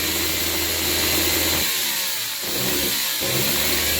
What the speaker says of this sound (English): We have a functioning starter motor.